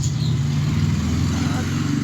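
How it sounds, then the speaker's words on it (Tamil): A vehicle engine in the Free Fire video game drones loudly and steadily with a low rumble, continuous throughout without breaks. "வண்டி வேற சவுண்டு கிழிக்குதுடா"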